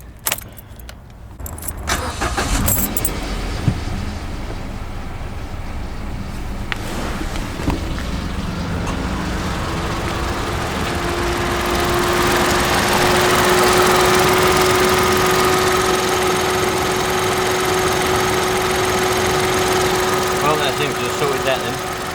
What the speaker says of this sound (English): you have to put your foot on a clutch every time you want to start it up